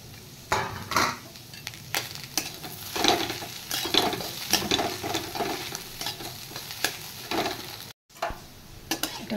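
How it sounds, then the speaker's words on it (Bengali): Boiled potatoes fry and get stirred in a pan, with a steady sizzle under repeated scraping and clinking strokes of a utensil against the pan, close and busy throughout, with no talking. "এবার এটার সাথে এগুলো একটু আমি ফ্রাই করে নেব। এবার আমি দিয়ে দেব বয়েল আলু।"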